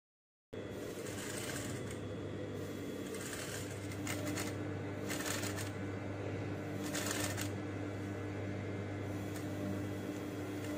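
Sewing machine stitching the side seams of a blouse runs in a continuous steady whir, with short bursts of faster rattling stitching and a low motor hum underneath, and no one speaking.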